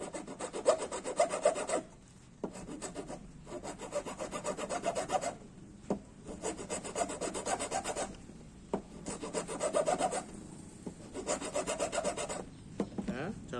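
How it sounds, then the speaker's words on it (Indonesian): A hand file rasping the edge of a PVC pipe part for a homemade pipe slingshot, with long steady scraping strokes repeating in rhythm, close and alone without talk. "ini kita kikir, kita kurangi lah"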